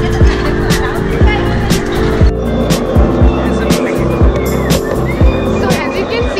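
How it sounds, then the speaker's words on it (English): A small tuk-tuk rickshaw rumbles along a bumpy ride through the crowded alleys of Paharganj market in Delhi, with a loud steady engine drone, repeated jolts and clatters, and a busy crowd murmuring around it. "I've sat in this small tuk-tuk rickshaw because my legs gave up after walking across the crowded alleys of Paharganj"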